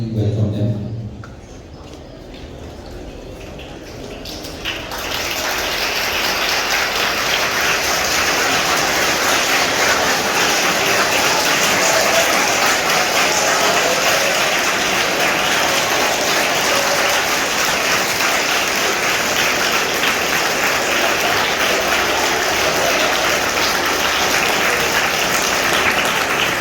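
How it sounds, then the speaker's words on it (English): Sustained, loud applause from a large student audience welcoming guests, dense and steady after a quieter opening few seconds, with no talk over it. "Only your clapping must be heard when we welcome them."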